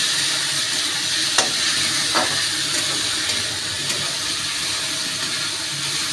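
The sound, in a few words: stir-frying spice masala with salt in pan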